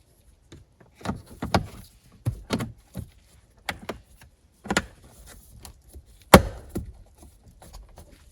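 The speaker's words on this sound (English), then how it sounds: "you've got the little locking tabs, which again will shift in place and click and lock" Plastic filter access cover on a Chrysler Pacifica being fitted, its locking tabs giving a series of short, close clicks and snaps spaced irregularly against near silence, one sharper snap standing out.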